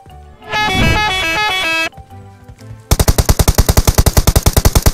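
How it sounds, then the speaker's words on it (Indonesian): Automatic gunfire from shooting bots in PUBG Mobile: a brief loud burst early, then a fast, steady volley of sharp repeated shots filling the last two seconds, with a quieter gap between. "itu cara nembak bot, guys"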